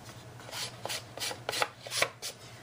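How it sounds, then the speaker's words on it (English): A coarse cheap nail file rasps across the edge of a mixed media paper card in quick, regular strokes, close and dry, about ten scrapes in a row with no talking. "you just take a nail file. I just get the cheap ones from Walmart. They're the coarse ones. And you just rub it across there."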